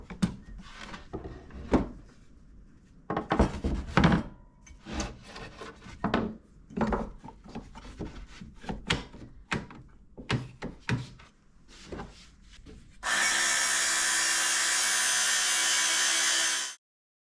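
A Swiss military surplus axe blade is worked over by hand with a file or stone, giving irregular bursts of rasping strokes with pauses between, then a steady loud rush of grinding noise near the end.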